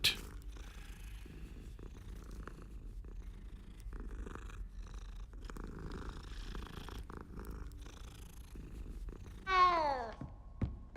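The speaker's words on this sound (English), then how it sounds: "Cat." Cat purring steadily in Hogwarts Legacy, a low continuous rumble sitting under faint game ambience, ending with a short rising chirp.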